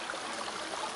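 A small stream flowing in Izmailovsky Park in Moscow, a brief steady babble of trickling water heard close, with no voices.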